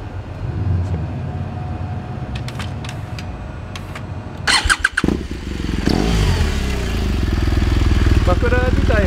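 BMW R1200RS motorcycle fitted with a genuine Akrapovic slip-on muffler, with a starter whir and clicks followed by the engine catching and settling into a steady, loud close-up idle, with a voice talking early on.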